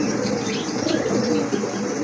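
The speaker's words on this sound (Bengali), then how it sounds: "এটা হচ্ছে গোপালগঞ্জের বড় পায়রা কবুতর" Large Gopalganj pigeons cooing in a loft, a close and loud run of throaty, rolling coos that continues without a break and is not joined by any talk.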